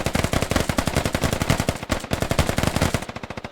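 Rapid sustained automatic gunfire in the Squad video game during a defense of a Russian FOB, loud, close and dense, with steady bursts of shots continuing throughout and no talk.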